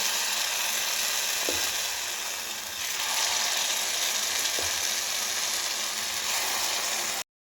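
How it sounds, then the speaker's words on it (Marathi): Appe batter sizzling in a hot oiled appe pan, a steady loud hiss of frying with a surge partway through and a couple of faint clicks, close and continuous, no talking. "आता येथे आपले भांडे सुद्धा छानपैकी गरम झालेले आहे आणि यात आपण आता हे बॅटर टाकून घेणार आहोत"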